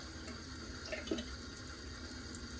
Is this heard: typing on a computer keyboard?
no